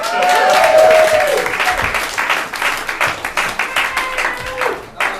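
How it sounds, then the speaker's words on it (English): An audience claps loudly at first, the applause thinning into scattered claps, with some voices and cheers mixed in. "Let's give a round of applause."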